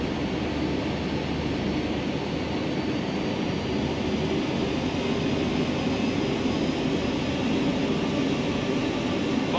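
Jet engines of an American Airlines 757-200 in the Prepar3D simulator rumble and whine steadily during a taxi, a continuous loud roar with no change in level and no speech.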